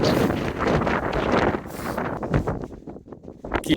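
Strong wind buffets the microphone in loud, roaring gusts that rise and fall while climbing a Colorado mountain peak, with rustling underneath and no talking.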